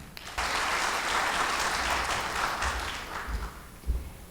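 A forum audience at the Asia-Pacific Forward Forum gives a sustained round of applause, dense and steady from start to finish after a brief quiet opening, with no talking over it.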